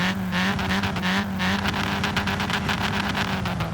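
A 1981 Ford Fiesta XR2 in Forza Horizon 3 bounces hard off its rev limiter, a loud, rapid stuttering engine buzz that chops on and off in quick pulses, close and continuous with no voices.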